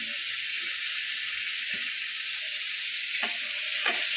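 Chilies and mixed vegetables for a vegetable pulao sizzle in a hot pan, a steady loud frying hiss with a few scraping stirs of a spoon near the end.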